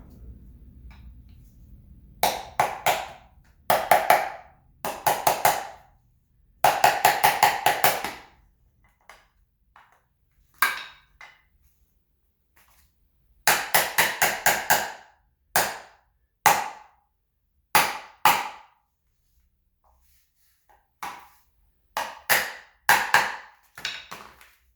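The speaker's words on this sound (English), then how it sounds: "So we don't hammer it all the way until it bottoms out." Sharp metallic hammer blows drive a part into a Honda B18B1 engine block, struck in quick clusters of several hits, separated by pauses, close and loud with no talking.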